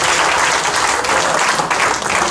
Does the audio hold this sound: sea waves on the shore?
no